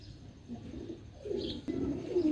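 Kasuri Kamagar breeder pigeon hen, a tail-marked bird, cooing in soft, low repeated coos at close range, with light rustling in the background and no talking.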